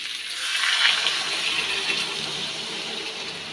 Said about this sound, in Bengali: গরম জল দিয়ে দিলাম, ফুটে গেলেই এখন নামিয়ে দেবো।